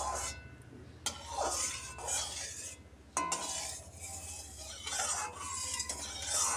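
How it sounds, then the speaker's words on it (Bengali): Cooking oil being spread around a wok set on a gas stove with a metal spatula, heard as repeated close scraping strokes and sharp metallic clinks in a quiet kitchen. "কড়াই গায়ে ভালো করে তেলটা মাখিয়ে নিলাম"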